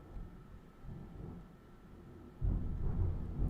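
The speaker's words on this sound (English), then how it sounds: "That is Thunder." Thunder rumbles low and heavy outdoors during a storm, a long rolling boom that swells louder near the end and sounds close, with no talking over it.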